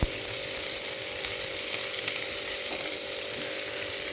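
Vegetables frying with browned onion, ginger and garlic give a steady, close, even sizzle, with faint stirring scrapes underneath and no talk.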